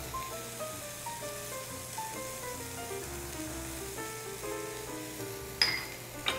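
Chopped onion and garlic sauté in a glazed frying pan, giving a soft, continuous sizzle with a couple of brief louder hisses near the end, over quiet background music.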